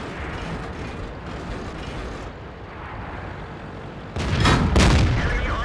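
A tank cannon shot lands on a WZ-131 during a World of Tanks battle, breaking its tracks: a sudden loud blast with a harsh metallic crack rings out late, over a steady rumbling engine and mechanical clatter.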